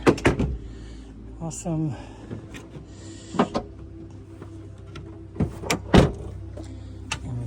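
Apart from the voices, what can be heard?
Honda Element back door dropping down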